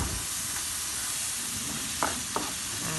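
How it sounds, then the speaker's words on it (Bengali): Garlic-ginger paste with onion and turmeric masala for chicken biryani frying in two frying pans, a continuous soft sizzle with a couple of sharp scraping stirs near the end. "দুই ফ্রাই বোনে দুইটাতেই মশলা কষানো হচ্ছে"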